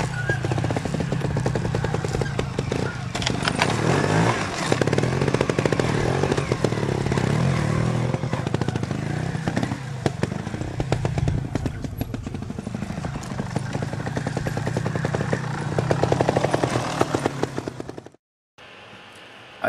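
Trials motorcycle riding an observed section, its engine popping and revving in short bursts close by throughout, then cutting off abruptly near the end.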